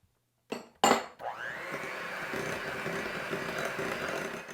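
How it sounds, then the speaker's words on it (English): An electric mixer switches on with a couple of short bursts, then beats sugar for pistachio pudding bread batter at a steady, even whir until creamy. "I'm going to beat this together until it's creamy."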